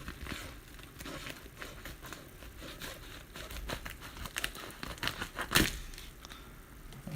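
Cutters snip and crinkle through the plastic-wrapped end of a mail package, a steady close run of crackling, rustling cuts with one sharper snap partway through.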